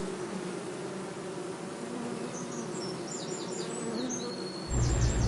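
Honeybees from the many hives at Deutzer Hafen in Cologne buzz in a dense, continuous drone close by, with a few faint bird chirps above and a louder rush joining near the end.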